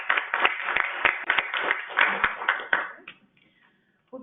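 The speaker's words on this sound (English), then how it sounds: "So I think a round of applause for everybody is warranted." A short round of applause at a committee meeting, with a small group clapping in distinct sharp claps at close range for about three seconds, then fading quickly to near silence.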